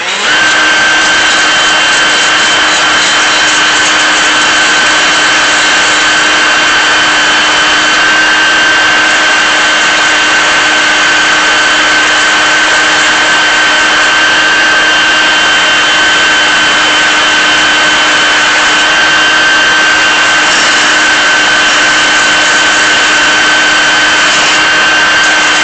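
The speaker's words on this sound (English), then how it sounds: "So what sanding this even a little bit does is it allows the seam sealer to have a surface to kind of like hold on to" Sanding the metal of a Mustang's custom fender well before seam sealer goes on: a loud, unbroken grinding whine with a steady pitch that holds for the whole stretch, with no voices.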